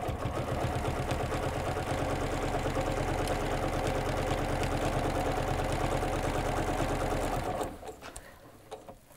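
A sewing machine fitted with a walking foot stitching a quilt seam on a string-block quilted potholder, a steady rapid mechanical whir and clatter up close that runs for several seconds and then stops abruptly.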